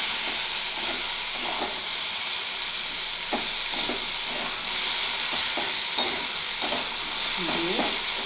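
Ground cumin, coriander and chilli paste with turmeric sautéed in a pan for bitter gourd and potato curry, giving a steady loud hissing sizzle with intermittent soft stirring scrapes, no voices.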